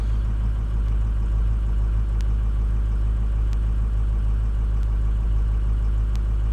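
A car engine idles steadily with a low, even hum and faint periodic ticks, heard close up with no talking.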